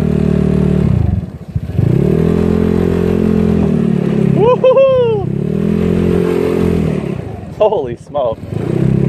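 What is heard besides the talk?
scooter with new GY6 engine riding and accelerating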